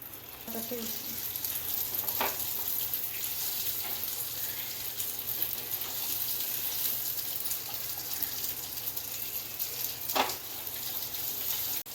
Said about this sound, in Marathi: आता आपण ह्याच्यात भेंडी फ्राय करून घ्यायची